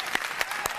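Studio audience applause on an Argentine television variety show, a short burst of clapping from a crowd in the studio, moderately loud with a few sharper claps standing out.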